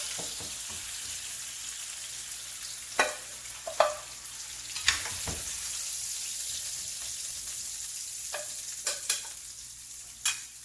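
A bone-in New York strip steak sears in a pan with a steady, fairly quiet sizzle, broken by scattered sharp pops and spatters throughout.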